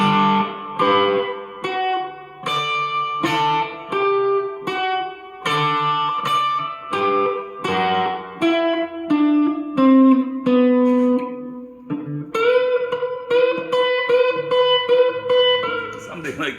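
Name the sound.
electric guitar riff, reverb, overdrive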